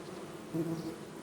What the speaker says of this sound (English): a wasp attempting to breach the entrance only to be swarmed and driven off by a coordinated mob of defenders